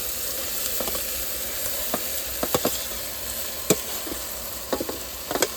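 Onion fries in plenty of oil for prawn rice with whole spices, a steady close sizzle and hiss with scattered spatters and scraping stirs on top.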